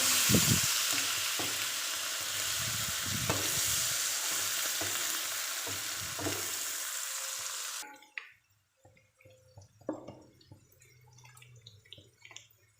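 Spices, green chilies and ginger paste mixed in a frying pan: a loud steady sizzle with stirring clatters, cutting off abruptly about two-thirds through, leaving faint scattered clinks and drips.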